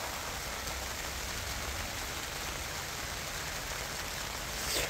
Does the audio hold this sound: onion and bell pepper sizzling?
no